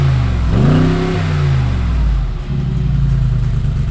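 A 2021 Mercedes AMG G63 with its 4-liter twin turbo engine and dual side exhaust pipes revs up sharply once, the pitch climbing then dropping back to a deep, loud idle burble close by.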